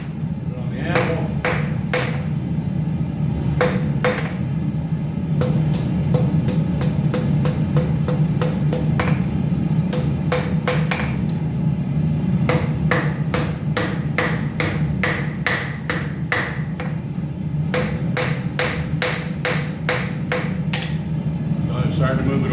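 A forged iron Christmas decoration is hammered on an anvil, sharp ringing strikes coming in quick bursts and steady runs, close and loud, while a person talks throughout.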